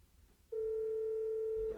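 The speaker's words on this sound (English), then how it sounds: "All right, ringing. Phone is ringing." An outgoing phone call's ringback tone sounds once as a single steady electronic beep lasting just over a second, clear and close after a moment of near silence.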